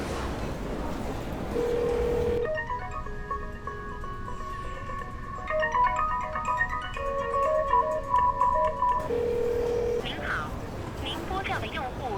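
A mobile phone call rings out unanswered, a steady repeating tone pattern heard close and clear with a brief voice around it.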